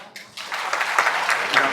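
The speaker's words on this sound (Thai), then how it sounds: "ขอเสียงปรบมือต้อนรับคุณทศพลเครือลอยครับ" Applause from an audience at a Move Forward Party event in Trat welcoming a speaker, rising quickly from quiet into a brief, fairly close burst of clapping.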